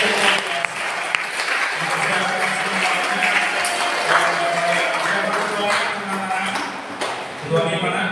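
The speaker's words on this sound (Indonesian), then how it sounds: "Maka kita tepuk tangan untuk panitia Natal betul-betul yang luar biasa." A church congregation at a Christmas Mass applauds the Christmas committee, steady dense clapping filling the hall at moderate volume with some voices underneath.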